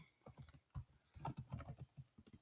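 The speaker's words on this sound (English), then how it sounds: "I can actually type in the text box already as we speak" Fingers type in quick, irregular bursts on a computer keyboard, a soft run of close clicks and taps with brief pauses between them.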